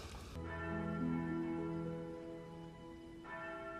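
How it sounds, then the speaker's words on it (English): A resonant bell tone rings out and sustains with long decay, then a second strike sounds near the end; fairly faint with no talking. "they summon Zoro by ringing the bell 5 times"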